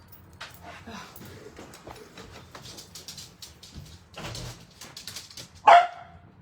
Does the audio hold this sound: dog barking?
yes